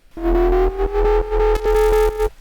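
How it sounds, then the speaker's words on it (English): Distorted sine-wave synth bass for a drum and bass sound plays a few sustained buzzy notes with short gaps between them, loud and gritty, with no voices. "now when we distort it, it's just got a little bit more oomph to it than just like a regular sine wave"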